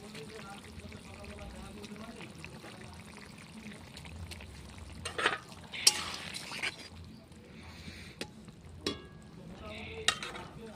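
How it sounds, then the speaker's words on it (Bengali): Fried eggs dropped into a pan of boiling water, a soft bubbling simmer with splashes, clatters and stirring knocks scattered through, fairly quiet and close. "এখন দিয়ে দেবো আমি ভেজে রাখা ডিমগুলো"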